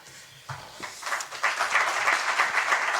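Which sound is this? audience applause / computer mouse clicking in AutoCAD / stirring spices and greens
audience applause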